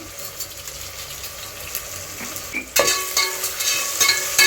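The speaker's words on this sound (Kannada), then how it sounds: "ಇವಾಗ ಈರುಳ್ಳಿ ಟೊಮೊಟೊ ಎಲ್ಲ ಚೆನ್ನಾಗಿ ಫ್ರೈ ಆಗಿದೆ." Onion and tomato fry in a pan for Ambur biryani, steady sizzling under scraping stirs that grow louder and busier partway through, with no voices.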